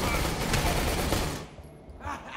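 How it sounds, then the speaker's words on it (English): Rapid automatic fire from a deployed sentry turret in the Aliens: Colonial Marines multiplayer game, a dense continuous rattle that cuts off midway, followed by quieter game sounds. "Deploying turret."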